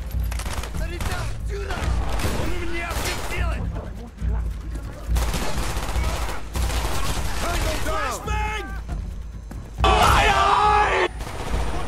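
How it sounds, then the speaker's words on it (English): A flashbang grenade goes off during a Vietnam-set mission in Call of Duty: Black Ops, amid loud, dense gunfire and explosions. Near the end a sharp, bright blast stands out, and game voices and groans run throughout. "That was bad flashbang."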